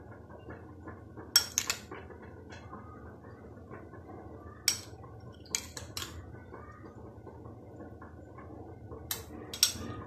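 A spoon scrapes and clinks against a bowl while a mashed sandwich filling is stirred with mayonnaise, sharp intermittent metallic clinks over a faint soft squelching, close and quiet, with no talking.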